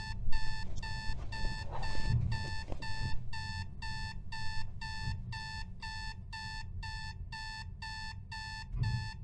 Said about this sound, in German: Warum steht mein Wecker im obersten Regal? Ich brauche einen Stuhl, um das auszuschalten.